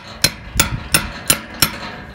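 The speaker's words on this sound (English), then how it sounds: "You can pound it in with the side of your hammer to finish it." The side of a hammer pounds a barb staple into a fence over RAMM Flex Fence coated wire with a staple starter. Five sharp, evenly spaced metallic strikes ring out close and loud, with no talking.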